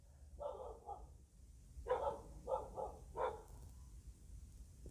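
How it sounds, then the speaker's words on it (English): Several dogs bark in short bursts, a pair of barks followed by a tighter run of three or four, moderately close and alone over a faint low rumble. "Sorry, my dogs are barking."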